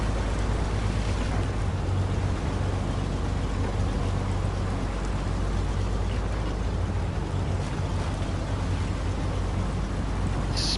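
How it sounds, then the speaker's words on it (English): Truck sloshing and splashing through water at the bottom of a quarry in SnowRunner, a steady broadband wash of churning water over a low engine drone, continuous and fairly close with no talking. "Splash about in the bottom of the quarry."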